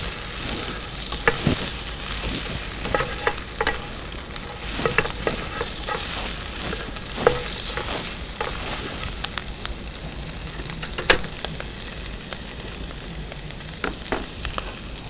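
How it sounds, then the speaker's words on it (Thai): Mussels and squid stir-fry with garlic in a hot pan for herbal fried rice, a steady sizzle broken by frequent scraping and tossing clatters of the utensil against the pan, close and fairly loud. "ผัดเข้าด้วยกันเลยค่ะ"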